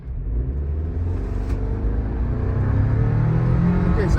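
A 2025 Toyota 4Runner's engine builds under harder acceleration on a test drive, a low cabin rumble that swells steadily in pitch and loudness.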